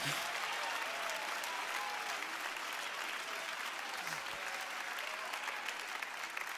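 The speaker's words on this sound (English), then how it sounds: "Somebody ought to clap their hands and worship God right now." A Pentecostal church congregation claps steadily during worship, a continuous wash of many hands heard at a distance with faint voices mixed underneath.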